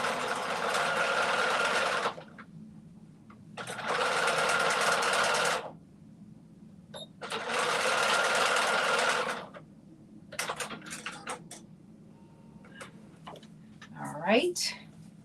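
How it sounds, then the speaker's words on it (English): Domestic sewing machine stitching a 5/8-inch seam on a fabric facing, running in three steady, loud bursts of about two seconds each with pauses between, followed by lighter handling noises and a brief voice at the end. "We're going to sew it together."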